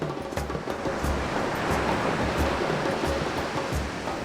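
Ocean waves wash continuously onto a long white-yellow sand beach at Khao Lampi–Hat Thai Mueang National Park on Thailand's Andaman coast, a steady close roar of surf with rhythmic swells every second or so and no voices.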